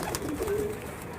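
A female pigeon coos on a rooftop, a soft low burbling call heard close by for about a second against light background noise.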